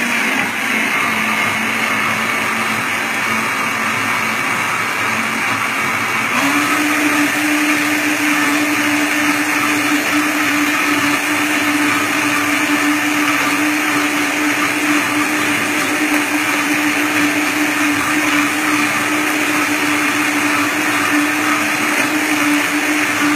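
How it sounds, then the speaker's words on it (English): A blender runs continuously on an almond milk smoothie, a loud, steady whirring close by that shifts to a slightly different pitch a few seconds in as the contents settle. "And I'm going to blend that up."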